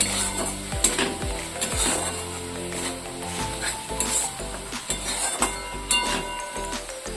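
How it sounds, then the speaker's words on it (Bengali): Paneer masala is sautéed with cumin and coriander powder for a milk paneer dish: a sizzle runs under repeated clinks and scrapes of a spatula against the pan, with no voices. "হাফ চামচ জিরে গুঁড়ো হাফ চামচ ধনে গুঁড়ো দিয়ে আবারও ভালো করে কষিয়ে নিতে হবে"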